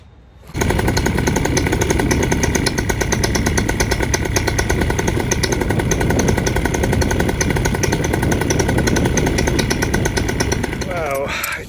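A Melster 185 Classic paramotor engine fires up and runs steadily at high revs, a loud, continuous buzzing two-stroke roar that holds nearly unchanged for about eleven seconds before cutting off at the end.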